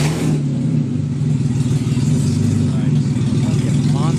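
A car with a rebuilt forged BMW S52 straight-six snarls loudly on its first drive, top down, holding a continuous rev, with voices under the engine.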